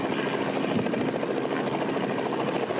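Police helicopters flying over a region during a large manhunt, a loud steady rotor thrum and engine roar filling the whole stretch without speech.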